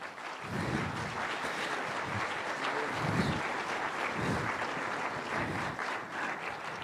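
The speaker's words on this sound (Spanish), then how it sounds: "pediría un voto de aplauso para nuestro Pastor King" A church audience at an evangelistic campaign applauding for the pastor, a sustained wash of many hands clapping in a large hall, steady and moderately loud from start to finish.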